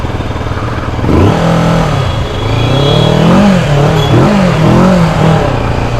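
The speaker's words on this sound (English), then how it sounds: "it sounds really grunty when you actually twist the throttle a lot" A Kawasaki Versys 650 parallel-twin motorcycle engine revved hard with the throttle, a loud, gruff note that swells, dips and rises again in several throttle blips.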